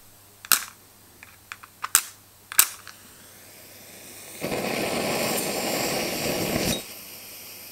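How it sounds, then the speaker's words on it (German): A storm match strikes with several sharp scratchy clicks, then flares into a steady loud roaring hiss for about two seconds as it lights a Polaris Optifuel camping stove, close up with no talk. "Kocher brennt. Mit Sturmstreichholz geht's."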